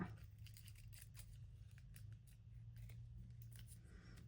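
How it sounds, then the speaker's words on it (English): Scissors snipping through sticker paper close by, a rapid, steady series of crisp cuts over a low hum, faint and with no talking. "I want to go ahead and cut it now."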